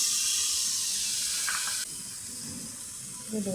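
Loud steady hiss and sizzle as a little water hits hot ginger-garlic paste, coriander and turmeric masala, cooking for a desi chicken and potato curry; the hiss drops in level partway through and a few soft knocks follow near the end.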